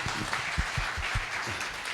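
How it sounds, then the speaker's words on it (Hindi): An audience at a church conference in Mumbai claps steadily, a dense, continuous patter of many hands throughout, fairly close and without talk. "ताली बजाइए प्लीज।"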